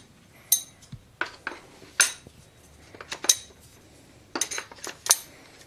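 Metal clicks and clinks as 9-inch nails are loaded one by one into the magazine of a pump-action nail gun, sharp irregular taps at close range with short pauses between them and no voices.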